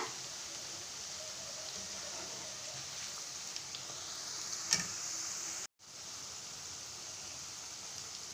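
Oats pakoda bubbling in hot oil, a steady soft hiss of frying with faint crackles throughout, a brief louder pop midway and a short dropout near the end.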